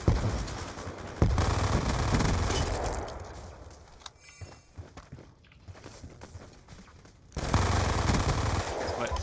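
Gunfire in the first-person shooter Black Ops II, with sustained automatic bursts near and loud, a quieter gap with scattered shots, then heavy firing resuming.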